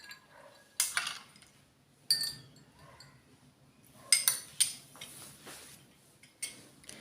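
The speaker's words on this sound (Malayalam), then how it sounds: "ഐസ് ക്യൂബ് ഇട്ട് കൊടുക്കണം. അടുത്തത് ഐസ് ക്യൂബ്." Ice cubes drop into a glass of butterfly pea flower drink with mint leaves, sounding as a few sharp clinks and clatters at irregular intervals, close and fairly quiet with no talking.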